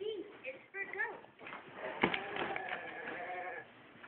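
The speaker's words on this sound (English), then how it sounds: "A goat." A goat bleats in short wavering cries amid a busy mix of other noises, with a voice talking nearby over it.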